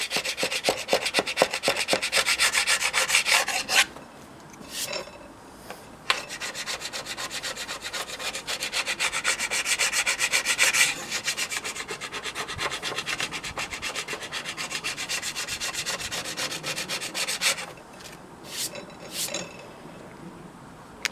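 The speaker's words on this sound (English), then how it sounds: "you then get your scraper and go diagonally to where you've applied it" A plastic scraper rasps diagonally across the P-Tex repair on an Atomic snowboard base, shaving off the excess in steady, loud back-and-forth strokes with a few brief pauses and no talking.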